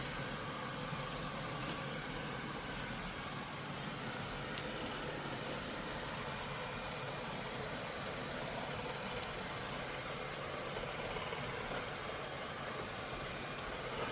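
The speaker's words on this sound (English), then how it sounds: "These little scrubbers are really good. They're scrubbing the floor really nicely, and it's very quiet." A robot vacuum mops and scrubs a floor with a steady, low continuous hum and faint whir, constant in level throughout with no talking.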